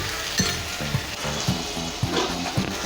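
Ginger paste sizzles steadily in hot oil in a pan for an egg tadka, with a stirring utensil scraping through it in a regular rhythm about twice a second, close and continuous.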